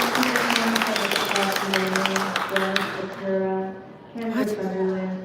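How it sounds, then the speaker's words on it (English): Applause from the crowd at a public meeting, a steady wash of clapping that carries on beneath a person speaking, fading briefly near the end before swelling again. "I think the applause is continuing"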